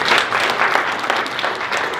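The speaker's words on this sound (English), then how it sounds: "Ladies and gentlemen, round of applause for Kendrick." Audience applause at a business talk on cleaning management, a moderately loud burst of many hands clapping in an uneven patter with no voices.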